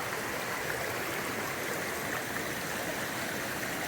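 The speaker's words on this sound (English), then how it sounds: "Well, the creek doesn't look too bad." A creek along the Appalachian Trail flows steadily, a continuous rushing, gurgling wash of water heard close and alone with no voices.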